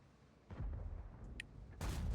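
Two deep, booming tank cannon blasts from an IS-7 tank in a video game, the first at about half a second and a louder one near the end, each with a heavy low rumble.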